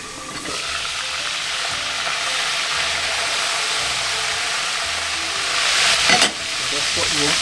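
Loud, continuous sizzling of southern fried chicken frying in hot oil, a steady hiss with a brief surge of crackling near the end.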